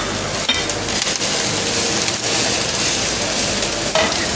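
Carrots and cabbage frying in a pan with cooked pork and mushrooms, a loud, steady close sizzle with occasional stirring scrapes and clatters throughout.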